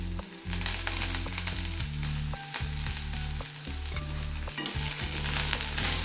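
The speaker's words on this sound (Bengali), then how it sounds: "এবারে পেঁয়াজের সাথে হালকা একটু ভেজে নেব" Coriander leaves frying with onion in a pan, a steady close sizzle and crackle with repeated scraping strokes of a stirring spoon, with no talk over it.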